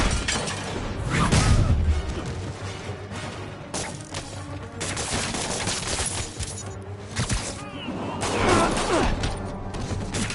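Chaotic game combat in Spider-Man on PS4, with dense gunfire, crashing impacts and scuffles piled over a steady low music bed, continuous and loud throughout.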